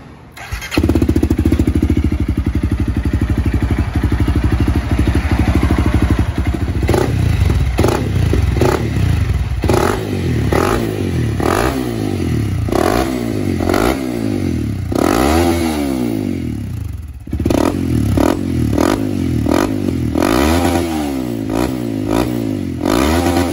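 A Honda CRF300L set up as a supermoto starts and idles loudly right up close, its single-cylinder exhaust note chugging steadily and blipping through repeated revs with a brief dip partway through.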